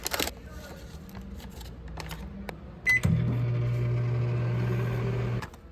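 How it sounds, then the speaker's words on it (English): Microwave oven starting up with a poke bowl inside, a short beep and a thud of the door, then a steady low hum running alone for a few seconds before it cuts off. "let's take it through the microwave"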